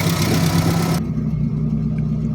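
A car's AP engine idles with a steady low rumble while warming up; a broadband hiss cuts off after the first second, leaving the engine droning alone.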